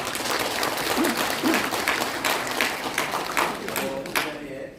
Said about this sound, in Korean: 이규택 의원님 오셨는데 우리 크게 박수로 한번